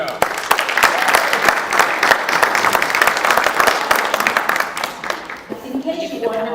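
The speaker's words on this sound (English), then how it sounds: "So let's give him a warm round of applause." A conference audience at the 2019 Phoenix keynote event gives loud, dense applause for a new CEO. The clapping tapers after about five seconds as a voice begins speaking.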